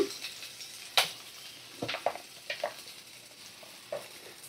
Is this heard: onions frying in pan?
yes